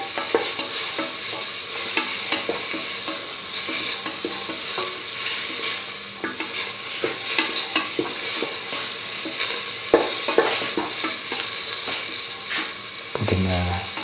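Cumin powder sautéed in a pan for a curried lentil and egg stew, with a steady loud sizzle and continuous scraping stir strokes throughout, plus a brief low thump near the end.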